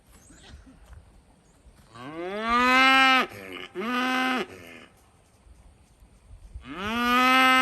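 A steer moos three times, long loud bellowing calls with a steady rising-falling pitch, close by and separated by short pauses of quiet farmyard background.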